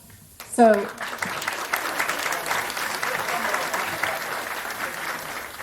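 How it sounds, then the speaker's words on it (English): A voice is heard briefly before applause swells from the audience at a middle school building dedication ceremony, then continues as steady, dense clapping to the end. "give them a round of applause for the work they have put in to see this beautiful building come to completion"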